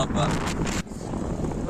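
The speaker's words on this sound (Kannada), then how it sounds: "ನೋಡಿ ಒಳ್ಳೆ ಚಳಿ, ಗಾಳಿ." Cold night wind gusts and buffets at a roadside tea stop on a night trip toward Mysore, a steady breathy roar with louder blustery rushes that swell and drop, close to the microphone.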